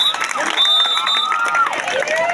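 Crowd clapping and cheering at an SGF zonal-level kabaddi tournament in Yadadri Park, Annojiguda, with children shouting and whistling over a dense, loud, continuous din.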